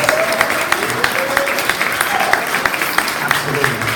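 Steady audience applause fills the room, dense clapping with a voice calling out over it partway through.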